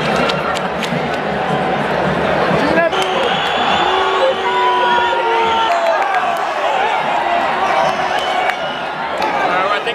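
Soccer crowd at Azteca Stadium in Mexico roaring and cheering continuously, a dense wash of many voices with whoops and shouts, loud and sustained throughout.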